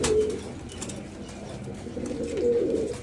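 Pigeons coo in a breeding loft where paired birds are housed, low throaty coos rising clearly at the start and again near the end over a steady background murmur.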